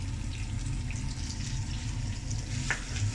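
Steady stream of water pouring into a cooking pan of spices for chicken jalfrezi, a continuous rushing splash with no voices.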